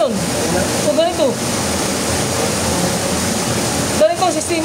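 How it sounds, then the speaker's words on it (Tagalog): Water runs steadily through a small stream channel at a rocky creek, a continuous broad rushing wash with brief brighter splashes, heard close and loud with no talking. "Parang maliit na tani na diadaanan ng tubig."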